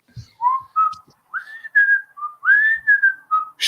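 A person whistles a tune aboard a Megabus, a series of clear, close, fairly loud notes with short gaps between them, some sliding up in pitch, with no voices.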